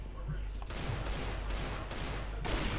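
Rapid gunfire from the video game CS:GO, with Desert Eagle pistol shots in dense continuous bursts filling the whole moment, loud and close.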